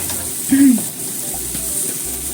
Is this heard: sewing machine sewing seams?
no